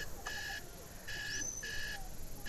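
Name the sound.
alarm beeping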